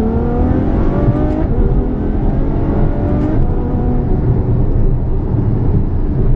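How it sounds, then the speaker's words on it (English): Ferrari F12 Berlinetta grand tourer engine revving hard with downshift blips, a loud continuous exhaust roar that rises and falls in pitch throughout, close and steady with no talking. "Beautiful downshifts."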